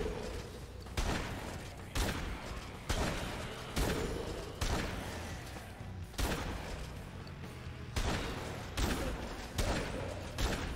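Gunfire from the Dead Rising 2 video game: a long run of heavy, booming shots, about one per second at a steady rhythm, loud and close with thick reverberant tails, and no speech.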